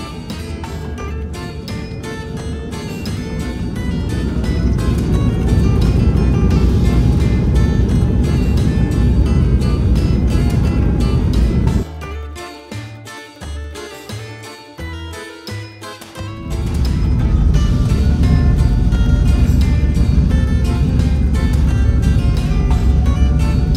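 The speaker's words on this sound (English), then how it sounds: "I do like the sound that the Embraer E190 E2's engines make." Embraer E190-E2 jet engines at takeoff power departing Almaty, a loud steady broadband roar with a brief quieter dip partway through before the full roar returns, no talking.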